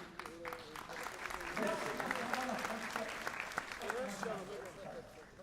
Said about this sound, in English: A grand applause